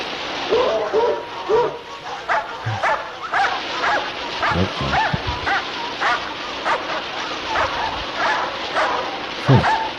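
A dog barks repeatedly outdoors beside a waterfall, short yips and bow-wows scattered across the clip over steady rushing water, with a person talking intermittently nearby.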